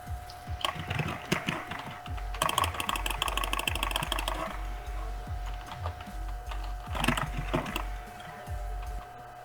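Rapid, hard keystrokes hammer a computer keyboard during an online game session, coming in dense bursts of clattering clicks with short pauses between them.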